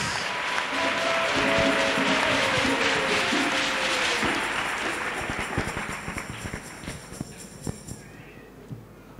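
A church congregation applauds for Jesus Christ in a dense, sustained clatter of clapping that gradually thins out and fades to scattered claps by the end.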